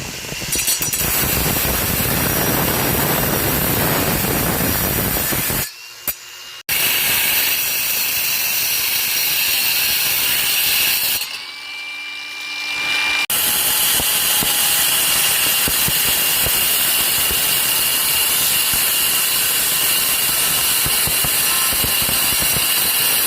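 A loud, continuous grinding or cutting tool works on engine motor mounts, which are cut at angles and trimmed down during an LS engine swap into a 2010 Chevy Colorado, broken by two brief pauses.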